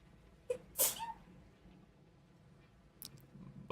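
A single sharp sneeze near the microphone, with a faint catch of breath before it and a couple of quiet clicks afterward in an otherwise quiet room.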